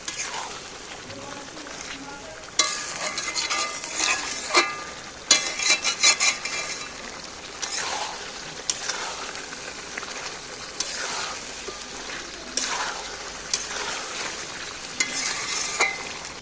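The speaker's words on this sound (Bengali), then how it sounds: "এইবার ভালো করে নেড়ে নেড়ে একে কষিয়ে নিতে হবে।" Fried chicken pieces stirred and pressed in a pan with coriander, a spatula scraping in repeated bursts over a steady sizzle, fairly close and moderately loud.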